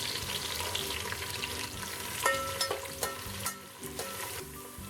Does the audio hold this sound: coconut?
yes